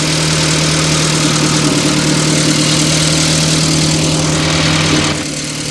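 A car engine running steadily during a tune-up with the ignition points being set, a loud, even idling hum close by that drops slightly at the end, with no talk.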